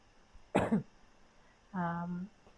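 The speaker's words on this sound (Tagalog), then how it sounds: "So, may ubo pa ako ngayon." One short, close cough, followed a moment later by a brief voiced throat sound.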